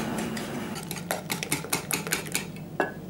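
Rapid clinking and scraping of a whisk beating three eggs with sugar and vanilla sugar in a bowl, steady and close, with irregular louder taps throughout and no voices.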